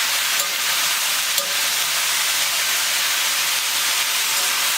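Ground Snake River Farms Wagyu brisket, fatty and cooked with very little oil, sizzles in a pan. The hiss and crackle are close and steady, with a brief louder pop near the start and no talking.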